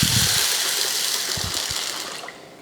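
Water gushes and splashes steadily as soaked lentils for vada are washed in a kitchen, with a few low knocks of grains or a vessel underneath, close and loud, fading slightly over a couple of seconds.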